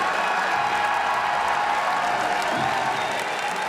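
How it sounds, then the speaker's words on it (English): Large crowd applauding steadily at the Pokémon VGC World Championships finals, a dense, continuous wash of clapping in a big arena with faint cheering mixed in. "The crowd is on their feet."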